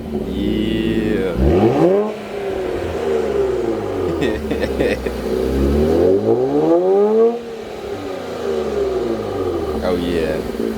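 Infiniti Q50 fitted with an Ark Grip exhaust revs in several rising and falling sweeps, loud and close, the engine note climbing sharply then dropping back to idle, while people talk over it.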